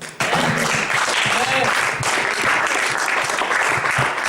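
A church congregation applauds and cheers in praise of the Lord, a dense, loud, steady wash of clapping that starts abruptly and carries on without a break, with scattered voices mixed in.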